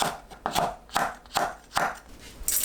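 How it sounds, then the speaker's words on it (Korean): A knife slicing green onion and red and green chili peppers diagonally on a cutting board, five or six crisp evenly spaced chops close up, with no voices. "파, 청양고추, 홍고추는 어슷 썰어서 준비합니다."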